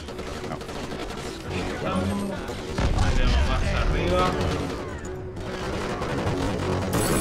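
Gunfire and explosions from the PS2 shooter game BLACK, with dense rattling bursts and heavy booms that swell loudly around the middle, while players talk over the action.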